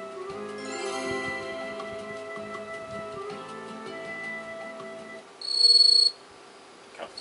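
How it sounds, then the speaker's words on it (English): Crickets chirp steadily in a video game, a continuous shimmering insect chorus with a faint tinkling tone, followed by a brief louder whistle-like tone near the end. "God, fuck you, crickets."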